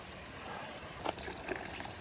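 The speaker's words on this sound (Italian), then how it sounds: "anche di qua c'è il torrentello che passa, è completamente rosso" Faint, continuous trickling water with a few brighter splashes and gurgles, like a small stream flowing nearby, in Padola, Comelico Superiore, Italy.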